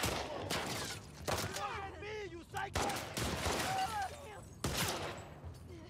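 Gunfire in The Last of Us Part II: bursts of shots run through a chaotic firefight, with sharp loud cracks near the start, middle and end, mixed with voices talking over the action.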